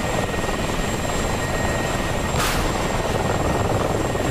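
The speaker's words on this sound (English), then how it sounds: "the last three guys are a bunch of helicopters rolling in" Helicopters roll in during a DCS combat flight simulator mission, a loud, continuous rotor and engine drone with a steady whine that holds alone throughout, marked by a brief burst partway through.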